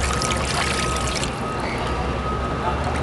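Tap water pours steadily into a fish tank holding rocks, a continuous splashing rush with people talking over it.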